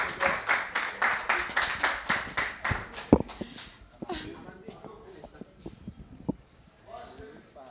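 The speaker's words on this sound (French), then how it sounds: "On acclame" An audience claps at a ceremony presenting end-of-internship certificates, with loud, steady rhythmic clapping for about three seconds that then thins into scattered claps under a speaking voice.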